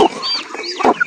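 Free-range backyard chickens clucking and squawking close by during feeding, several short calls in quick succession, loud and alone without talk.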